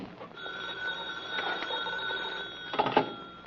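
An old-fashioned telephone bell rings in a 1945 radio mystery drama, a continuous metallic trill at moderate volume, with a couple of sharper clunks near the end.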